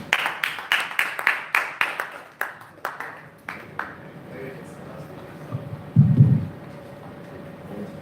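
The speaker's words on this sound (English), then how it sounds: "Round of applause" A small audience at a live blockchain event gives a brief round of applause, with a dozen or so sharp, fairly spaced claps that thin out and stop. A low hum and a short muffled thump follow.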